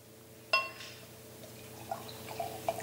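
Lagunitas High Westified Imperial Coffee Stout poured into a glass: a sharp clink at the start, then a quiet liquid trickle with a few soft splashes and drips, close up.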